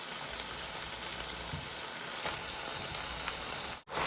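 Pork ribs sizzle and fry steadily in a pan with tomato paste, a close, continuous crackling hiss with no talking.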